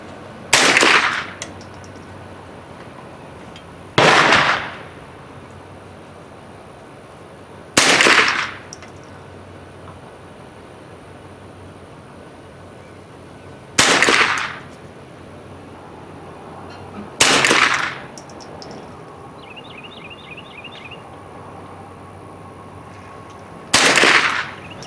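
Rifle shots fired from a gun rest while zeroing a CVLife 2.5-10x40 scope: six loud, sharp single reports spaced several seconds apart, each ringing out briefly before quiet returns.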